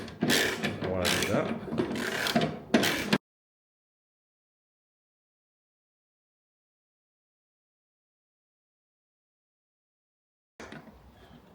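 A go-kart part being tightened during dismantling gives a few seconds of quick, rhythmic ratcheting clicks close up, then near silence, with a brief mechanical rustle at the very end.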